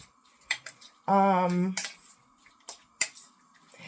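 Shrimp being stirred in a pan while making shrimp scampi, giving scattered light scraping and clinking taps with a short tonal burst in the middle and a voice briefly audible.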